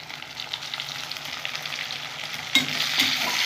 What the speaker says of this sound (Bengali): এখন আমি টমেটো দিয়ে দেবো।